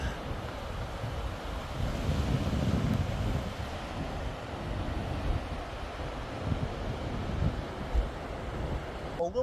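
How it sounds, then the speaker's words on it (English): Waves wash onto a beach in a steady, broad rush, moderately loud with wind buffeting the microphone and no talk. "well, lovely beach."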